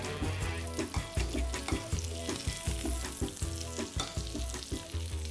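A flipped steak sizzles and fries in a pan, a continuous crackling hiss close by, with no talking.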